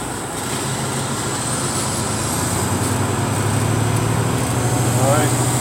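A tractor-trailer's diesel engine rumbles steadily at low pitch inside the cab while the driver shifts gears and eases off the clutch, with a dense continuous drone and people talking over it.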